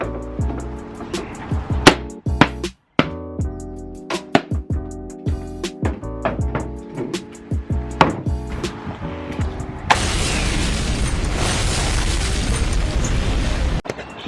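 The leg of an indoor upholstered wooden seat snaps off while the upholstery is being stripped, amid close, loud cracks, bangs and knocks of wood, followed by a sustained rough, noisy rush toward the end.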